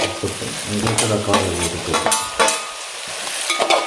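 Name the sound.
sautéing garlic and green chilli in a pan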